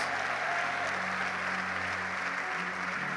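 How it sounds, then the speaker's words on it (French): Sustained applause fills a church as a congregation claps together, a dense even patter that holds steady throughout with no break, nearby and moderately loud. "Give a clap to God for that."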